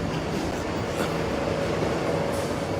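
An MTR train in Hong Kong during a typhoon rumbles steadily along the track with a constant roar, no voices heard.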